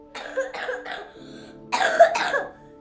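A man coughs several times in quick, raspy bursts from dust in a scene from the film Interstellar (2014), then two more harsh coughs after a short pause, close and clear.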